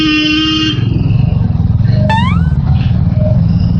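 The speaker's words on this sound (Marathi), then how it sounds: "पाठून कोण येतोय भाई, एवढा हॉर्न मारतोय" A vehicle horn honks from behind, first a long steady blast and then a brief sharp toot, over the close, loud pulsing engine rumble of a Royal Enfield Hunter 350 motorcycle on the move.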